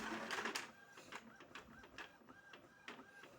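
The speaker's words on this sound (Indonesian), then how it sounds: "Tapi ini mau saya tes print lagi ya." An Epson home inkjet printer runs a test print, its print head shuttling back and forth in repeated whirring passes with short mechanical clicks and a faint whine between strokes, close and moderately quiet, with no one speaking.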